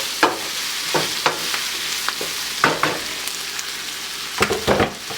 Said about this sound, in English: You can lift the cover and stir it again